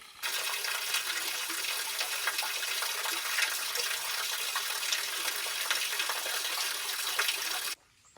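Creek water flows steadily right beside the listener in a wooded Georgia habitat, a continuous close rushing and babbling wash with no talk, cutting off abruptly at the end.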